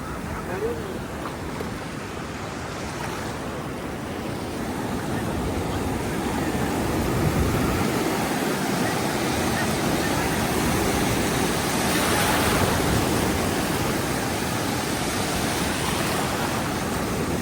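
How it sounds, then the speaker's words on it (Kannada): Steady rushing roar of sea waves washing in, with surges swelling and fading across the stretch, broadband and fairly close. "ಅಲೆಗಳು ಹಾಗೆ ರಭಸವಾಗಿ ಬರ್ತಾ ಇದೆ ನೋಡಿ"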